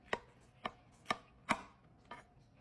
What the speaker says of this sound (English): Let's go ahead and cut this.